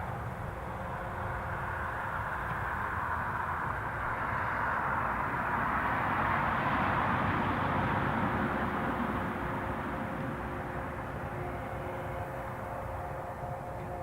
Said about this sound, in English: I've got visual on the incoming Ryanair.